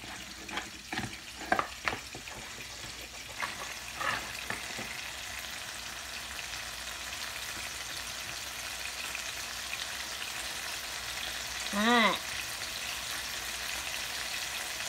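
Salmon patties fry in a pan with a steady, close sizzle that runs throughout. A few clinks and knocks come early on, and a short squeal is heard near the end.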